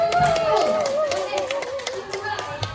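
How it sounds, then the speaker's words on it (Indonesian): A short round of hand clapping for a team in a classroom or training session, light and uneven under a steady voice speaking throughout. "Kasih tepuk."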